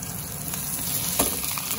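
Fish frying in a wok with scallions and red chillies, a steady close sizzle crackling across the short stretch, with a brief louder pop near the end and no talk.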